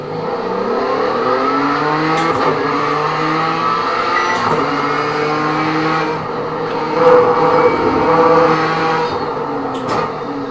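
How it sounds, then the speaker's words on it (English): A race car in the iRacing simulator rolls out onto the track toward the Mulsanne straight, its engine droning steadily at moderate revs with a rising and falling pitch, loud and continuous with no talk. "Let's go out on the racetrack and do a run."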